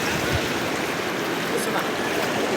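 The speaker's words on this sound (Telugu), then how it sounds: "వాగు మొత్తం ఫ్లో పెరిగిపోయింది" A swollen stream rushes past near Anumula village in Nalgonda district, Telangana, a steady broadband roar of flowing water that holds even for a couple of seconds, close and fairly loud.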